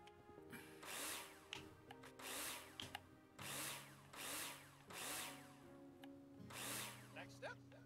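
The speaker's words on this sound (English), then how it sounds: "Now it's time to put in all the screws you need." Power drill driving screws in the Building Simulator game, several loud whirring bursts of about a second each, evenly spaced with brief pauses and clicks between them, a background music bed underneath.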